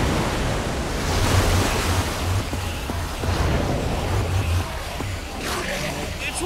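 Water gushes and roars in a Minecraft Story Mode game scene, a broad continuous rushing wash that stays loud for the whole stretch, with voices talking over it.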